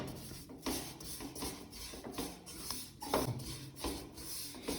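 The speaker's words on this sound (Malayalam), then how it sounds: "ഇത് കട്ടകളെല്ലാം നമ്മൾ ഉടച്ചെടുക്കണം ഇങ്ങനെ ചട്ടകം കൊണ്ട് കേട്ടോ." A spatula scraping and pressing through lumps in a besan barfi mixture in a pan, soft repeated rubbing strokes with light scrapes, close and fairly quiet, no talking.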